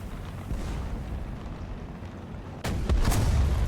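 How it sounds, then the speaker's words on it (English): Tank cannon fire in War Thunder, a heavy booming blast with a rumbling tail that erupts after a stretch of steady engine drone, loud and close, with no talk. "we managed to get one round out before he destroyed our gun"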